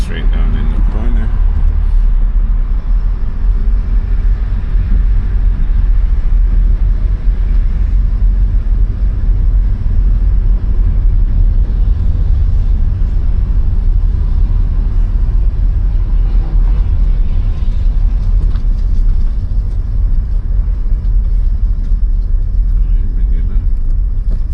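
A car driving through a Florida driving test route, steady low engine and road rumble throughout, close from inside the cabin with talking over it.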